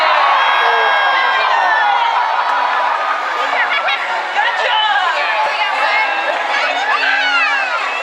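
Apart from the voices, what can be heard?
audience applause and cheering for a drenched volunteer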